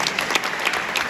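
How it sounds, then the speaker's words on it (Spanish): Audience applause at an oath ceremony for the Caspe compromisarios, steady dense clapping from a crowd filling the short moment without speech. "Un aplauso para Berenguer de Bardají."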